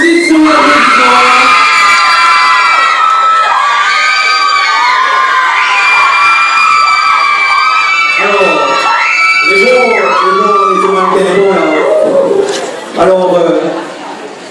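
Loud audience at the Miss Prestige Réunion beauty pageant, 2018: sustained high-pitched cheering, shrieks and whoops from a crowd, continuous for most of the stretch before briefly dipping and then resuming.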